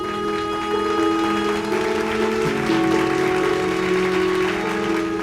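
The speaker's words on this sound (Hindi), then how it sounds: "इसी बात पे चीकू के लिए फिर से एक बार सब लोग तालियां बजा दो।" A crowd claps continuously for several seconds, dense and steady, over faint background music.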